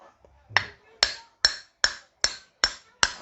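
Metal hammer strikes driving the rotor shaft out of a wall-mounted electric fan during a shaft replacement, seven sharp evenly spaced blows close up, each ringing briefly, with no talk.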